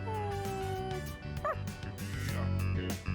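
Koromaru, a dog in the Persona 3 Reload video game, gives a few soft, high whimpering yelps over steady game music, fairly close and clear.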